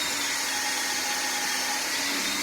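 Power drill at high RPM driving its bit into a pre-drilled hole in a wooden stool rail, a steady, close whirring whine with no break.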